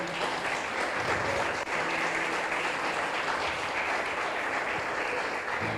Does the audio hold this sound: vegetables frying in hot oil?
no